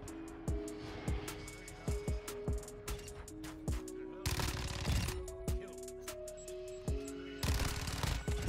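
Rapid shotgun blasts from a Modern Warfare 2 multiplayer match crack out in quick, uneven bursts, close and loud, with two longer stretches of sustained fire over a steady backdrop of game tones.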